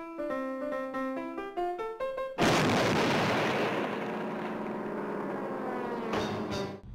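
A Looney Tunes cartoon exploding gag: a short melody of single plinked notes cuts off in a sudden, loud, booming explosion, followed by a long rumbling roar that slowly fades.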